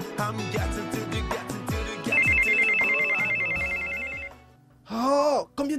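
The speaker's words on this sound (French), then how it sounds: "combien de fois vais-je te demander d'éteindre ton téléphone quand on est en cours?" A mobile phone ringtone plays loudly in a classroom, a melodic repeating tone sounding alone for several seconds before a voice cuts in.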